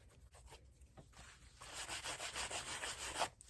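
Paintbrush lightly loaded with paint rubbed back and forth over a decoupage Christmas book, a soft, close scrubbing swish that grows steadier and louder in repeated strokes, with no talk.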